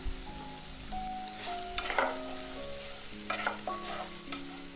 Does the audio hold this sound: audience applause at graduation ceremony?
no